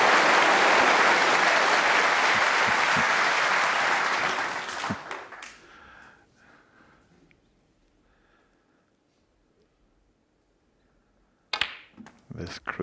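The Crucible crowd at the 2023 World Snooker Championship final bursts into loud, sustained applause that fades away after several seconds, leaving near silence before a brief sharp sound near the end.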